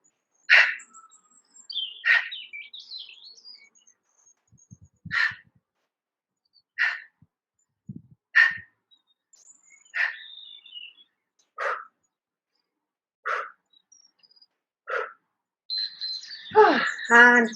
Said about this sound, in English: Birds are coming to say hello